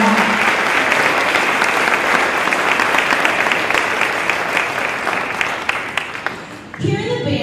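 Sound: audience applause for the student band at a spring concert

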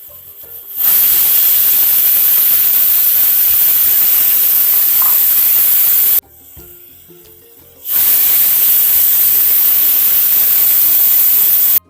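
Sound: pressure cooker whistling and releasing steam

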